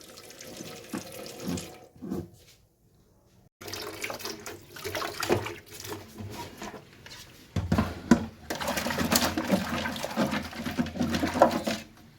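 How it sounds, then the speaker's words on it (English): Tap water runs into a container during a household cleaning test with dishwashing liquid and vinegar in a Nairobi home, coming in several bursts of close, splashing flow with a short pause between them. "And then we add water and leave it for some time."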